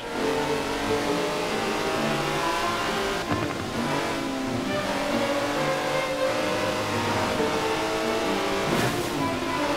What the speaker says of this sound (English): That's a 90-year-old racing car.